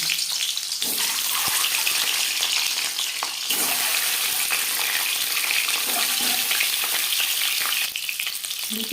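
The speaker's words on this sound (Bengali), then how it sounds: "চার চামচ রিফাইন্ড অয়েল গরম করে নেওয়ার পর দিয়ে দিলাম ডিম" Eggs frying in four spoons of hot refined oil for an egg curry, a steady loud hiss and crackle that bursts in sharply at the start, with a brief stir or scrape midway, no talking.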